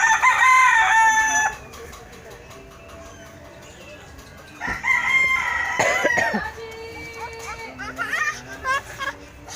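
Chickens clucking and a rooster crowing nearby, with a bright crow near the start and more calls later, while children and adults talk over the birds.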